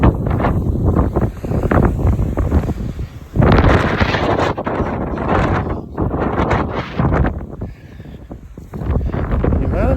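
Gusty wind buffets the microphone outdoors in heavy, uneven rumbling roars that rise and fall throughout, loud and close, with no clear voices.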